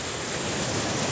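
Sea waves wash onto a beach in a dense, continuous roar of surf, loud and close, with wind buffeting the microphone and no voices.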